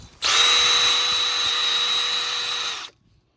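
A power tool whirs steadily at high pitch for about three seconds while cleaning rust off the rear hub of a 2019 Ford Fusion Hybrid, starting and stopping abruptly, close and loud, with no talking.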